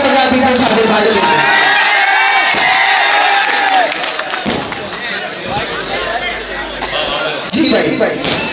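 Crowd at an Urdu mushaira poetry gathering in Ajrara claps and cheers loudly for a poet, a dense roar of applause and shouts that stays strong, dips midway and swells again near the end.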